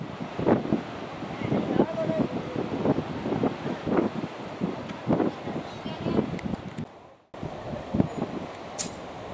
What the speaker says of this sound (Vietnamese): Trời rất là gió